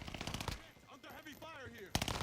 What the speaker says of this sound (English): Under heavy fire here.